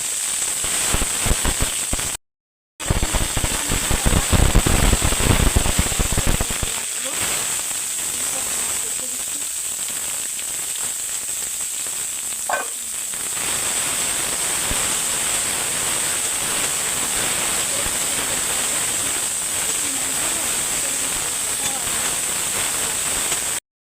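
Green chilies, cardamom and tomato sizzle loudly in hot mustard oil in a pan used for frying potatoes for chicken kosha, a dense crackling hiss that is strongest early on and then settles into a steadier, softer sizzle, with a brief gap near the start.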